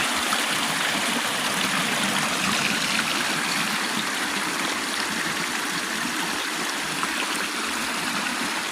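Water rushing steadily through a gold prospecting sluice box with moss and carpet under the riffles, a constant close, loud splashing flow without pauses or talk.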